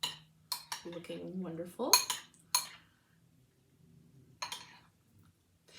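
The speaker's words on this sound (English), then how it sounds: "now I'm going to stir my shrimp" Shrimp ceviche stirred in a bowl, with a few sharp clinks and scrapes of a utensil against the dish, close and irregular, while someone speaks briefly.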